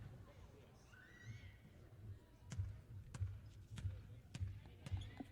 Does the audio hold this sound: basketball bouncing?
yes